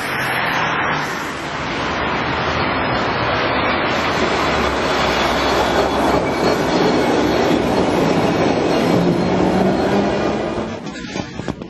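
Milan metro train running underground, a loud, continuous rumble with rail clatter and faint wheel squeal that builds and then cuts off abruptly at the end.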